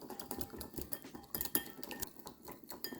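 Ingredients for a Mediterranean vegetable bake being mixed in a bowl, a busy run of quick clinks, taps and scrapes of a utensil, irregular and close, with no talking.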